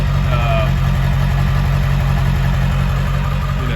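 A 2002 Ford F-350 4x4 with a 7.3L diesel and stock exhaust idles steadily, a loud, even low rumble with a constant rhythmic knock and no breaks.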